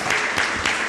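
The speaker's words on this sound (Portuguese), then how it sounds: "Vamos aplaudir o nosso Deus maravilhoso" A church congregation applauds together during worship praise, a dense, steady wash of clapping that fills the short moment at close range.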